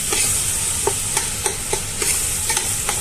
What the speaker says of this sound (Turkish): Yaklaşık 400 gram kıyma var burada kavuruyoruz.